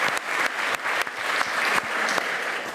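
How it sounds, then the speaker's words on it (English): An audience at a health event claps together in steady, lively applause, with the clapping strong throughout and no speech over it. "can we give everyone here a big round of applause"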